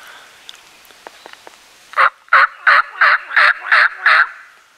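A wild turkey gobbles in answer to a loud hunter's call, a string of seven sharp, rapid rattling bursts from a short distance after a couple of seconds of quiet woodland background.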